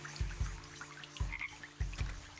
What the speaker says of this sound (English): Oh, I hear a frog.